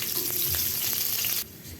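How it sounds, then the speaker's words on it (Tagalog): Garlic and onion sautéing in a hot pan, a loud, close, continuous hiss with light stirring scrapes that drops suddenly near the end. "magigis tayo ng bawang at sibuyas"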